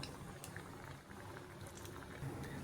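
Onion vada frying in hot oil at home, a steady bubbling sizzle with soft crackles and a few brief pops, close and continuous with no talk.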